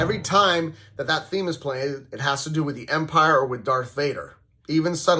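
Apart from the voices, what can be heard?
No everyday noise stands out behind the speech.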